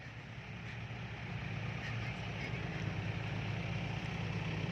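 A tractor engine runs steadily at a dirt-dumping site, a continuous low rumble with a droning hum that holds evenly and close throughout, with no talk over it.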